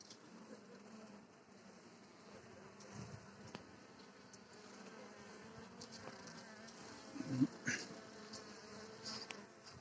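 A steady swarm-like buzzing of many Carniolan honey bees hums throughout, close and continuous, with a few louder passes near the end.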